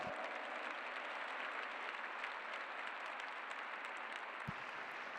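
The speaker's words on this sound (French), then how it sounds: "Mesdames, Messieurs, je pense que l'Autriche sera ravie d'entendre des applaudissements pour Max Kuhner." An audience at a show jumping event applauds for rider Max Kuhner, a continuous, even wash of clapping from a large crowd, heard from a distance and fairly quiet.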